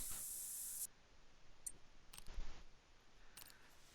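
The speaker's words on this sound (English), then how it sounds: "let's go ahead and put that handy dandy spray on" A short, loud hiss of scent-control spray being applied in the woods before a boar hunt, lasting under a second, followed by quiet rustling and faint handling clicks.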